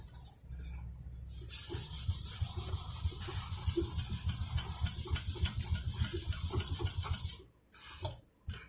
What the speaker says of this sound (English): Then this is another sanding block. It flexes a lot more, but I'll put the same 320 on here.